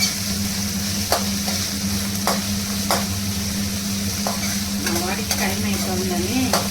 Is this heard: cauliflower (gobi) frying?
yes